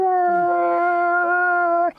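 A person imitates a wolf howl with one long, loud, sustained tone that holds steady for about two seconds before cutting off abruptly.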